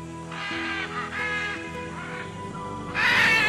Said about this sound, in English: the powerful, unmistakable cry of the great green macaw